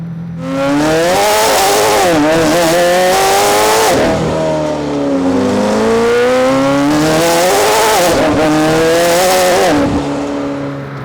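A Gintani-tuned McLaren Senna revs hard as its tires spin, its engine climbing in pitch, then cutting sharply as traction control intervenes before surging again; loud and close, with no talking.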